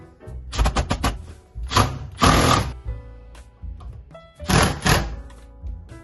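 Screws driven in to mount a Yale hydraulic door closer on a door, heard as close bursts of a power driver whirring with clicks and knocks of handling between them.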